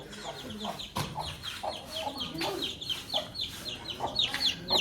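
Hens and chickens cluck and chatter in a farmyard, with repeated short calls close by and other birds behind them, mixed with faint background talk.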